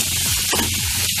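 Paneer bhujia with dried coriander leaves sizzling in a pan as it is stirred, a brief, dense hiss with faint scraping.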